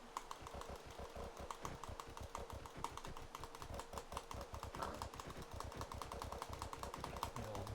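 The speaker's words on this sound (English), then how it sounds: "Double click mouse action" Rapid mouse clicking while killing pigs in Minecraft Skyblock, a dense, steady stream of sharp clicks with almost no pauses, fairly quiet and close.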